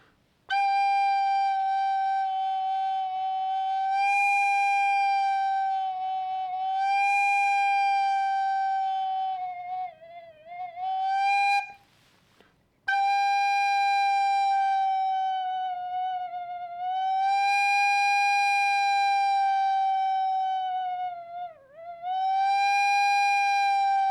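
A cheap recorder holds one steady high G, fading from loud to soft, breaks off briefly, then sounds again with the volume dipping and swelling.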